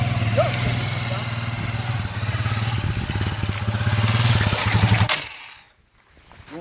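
A motorcycle engine chugs with a rapid, throbbing rumble as the rider eases the clutch and accelerates away, then cuts off sharply and drops to near quiet before a faint rise returns at the end.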